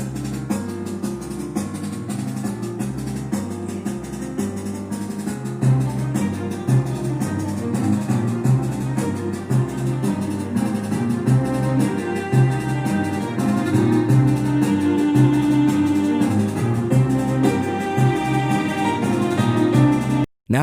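A Kingdom Hearts style battle theme built from piano, bass, snare drum, timpani and solo violin plays continuously and loud for about twenty seconds, with a steady driving pulse throughout and no talking.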